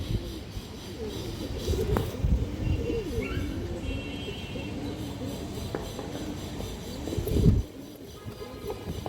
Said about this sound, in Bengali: ইন্ডিয়ান হাইফ্লার কালদম মাদি এক হাজার টাকা